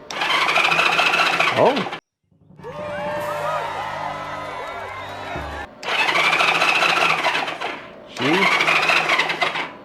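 A Honda CB360 motorcycle engine cranks over on its starter solenoid in repeated bursts of whirring and turning. A voice gives a brief exclamation between cranks.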